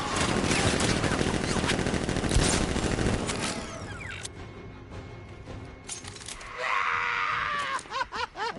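Gunfire from a sentry gun and guards in Batman: Arkham Knight erupts in loud, dense automatic bursts, then thins into scattered shots and impacts as strained voices and cries rise near the end.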